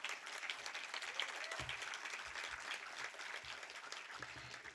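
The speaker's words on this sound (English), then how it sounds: "Let's give all of them a round of applause." Continuous round of applause from an audience at a university event honoring a librarian, even and sustained at moderate distance, with a faint low murmur beneath.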